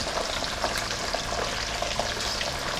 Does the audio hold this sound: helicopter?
no